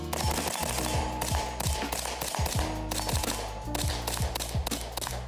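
A rapid string of muffled, thumping shots from a suppressed Knight's Armament CQB 11.5 5.56mm rifle, close and rhythmic, firing in quick bursts with metallic clatter and low pressure thuds between them.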